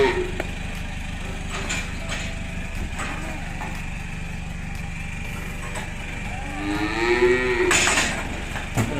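Cattle moo, a long low call rising near the end, over the steady hum of an idling truck engine nearby as the cattle are loaded for transport.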